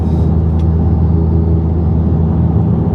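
A 540 bhp Golf R with a custom valved exhaust, valve open, accelerates from inside the cabin, a deep loud booming drone that holds steady for a few seconds.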